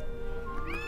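Cat meowing in the video game Gravity Daze, a short rising meow heard clearly over steady background music, with no talking.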